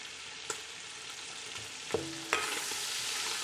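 Chopped onion is stirred into frying meat for a Kazakh flour kuyrdak, a soft sizzle broken by three sharp scrapes of the utensil against the pan, the sizzle swelling louder after the last stir, with no talk.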